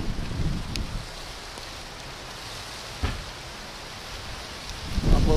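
Steady hiss of rain falling outdoors at a dacha, with a few faint taps and rustles and louder bursts near the start and end.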